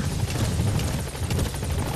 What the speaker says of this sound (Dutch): Nou, daar is de helikopter.